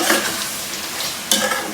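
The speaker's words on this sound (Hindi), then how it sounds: "अब हम इसको अच्छे तरीके से भूनेंगे" Mutton sizzles in a hot pan with garam masala and crushed red chilli as it is stir-fried for pyaz gosht. A steady, close crackling hiss is broken by scraping stirs, with a louder burst near the end.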